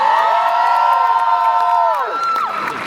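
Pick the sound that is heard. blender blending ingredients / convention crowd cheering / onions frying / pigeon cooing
convention crowd cheering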